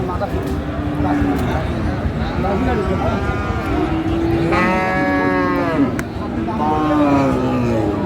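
Sahiwal bulls at a cattle market in Dinajpur, with loud drawn-out moos rising over a busy crowd murmur and people talking nearby, one strong moo in the middle and another near the end.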